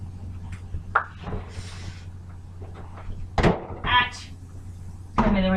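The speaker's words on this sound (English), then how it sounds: "I'm gonna put this in the fridge" A kitchen refrigerator door is opened and shut late at night, giving soft thuds and a seal-like clunk among some light rustling and clinking. The sounds are close and moderately loud, with a brief whoosh between them.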